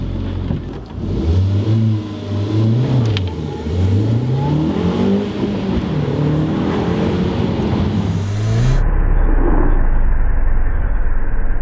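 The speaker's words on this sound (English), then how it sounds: "I'm now going to launch this thing to see how well the quattro works." An Audi TT with quattro all-wheel drive launches hard from close by, the engine revving up through several rising gear sweeps with loud, continuous acceleration before the sound turns to a rushing wind-like roar.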